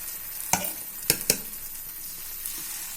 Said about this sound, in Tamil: பணியாரக்கல்லில் ஊற்றணும்.